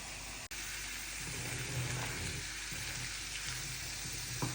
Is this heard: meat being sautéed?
yes